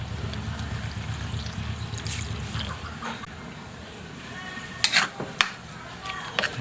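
Water is poured into a cooking pot of pork being simmered until tender, a trickling pour near the start followed by a few clinks of utensils against the pot.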